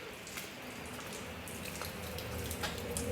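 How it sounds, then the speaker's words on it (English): Water rumbles through pipes and valves in a plumbing system being purged of air under steady flow, making a soft, continuous watery rush with faint drips and trickles throughout. "the water rumbling away, coming through all the valves"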